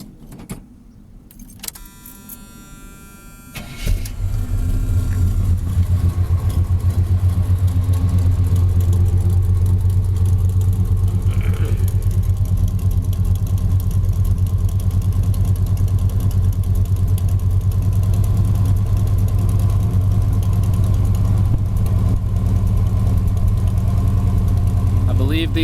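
Keys jingle briefly, then a 1979 Chevy 3/4-ton pickup with MagnaFlow mufflers cold-starts and settles into a loud, steady, deep idle rumble that runs unbroken to the end.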